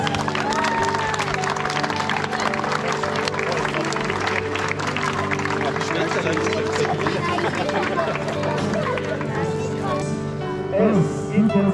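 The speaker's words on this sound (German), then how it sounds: "Großer Applaus!" Crowd applause at a soapbox derby, a dense steady wash of clapping and cheering that runs throughout, close and fairly loud, with scattered voices mixed in.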